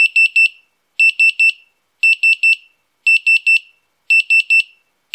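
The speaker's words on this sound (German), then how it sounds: "Mit dem Soundmodul wird aus der Uhr ein Wecker." A microcontroller sound module sounds an alarm-clock signal: loud, high electronic beeps in quick triplets, repeating about once a second, with no voices.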